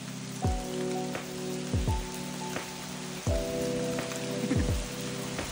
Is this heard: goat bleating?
no